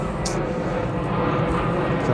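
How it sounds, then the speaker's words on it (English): A fixed-wing airplane flying overhead near an airport outdoors, a steady broad engine roar that stays loud and constant throughout. "You're going to get planes, and there's an airport fairly close by, of course."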